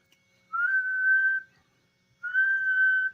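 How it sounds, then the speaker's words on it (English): A steady whistle test tone keyed through a restored CPI CB radio on sideband into a dummy load, two sustained clean tones about a second each separated by silence. "Full whistle on sideband."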